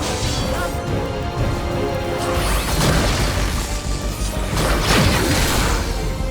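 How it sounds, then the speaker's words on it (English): Explosions in the video game Final Fantasy XIV Dawntrail crash and boom over a dense, continuous wash of battle effects and whooshes, loud throughout with repeated impacts. "Watch out for explosions."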